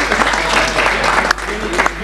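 Applause fills the hall at a Bavarian go-kart association event, steady clapping from a crowd across the whole moment with a voice speaking faintly beneath.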